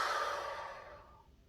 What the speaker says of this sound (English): taking a breath